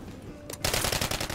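Rapid automatic gunfire from a first-person shooter's Search and Destroy match, a short burst then a dense sustained volley of shots, loud and close.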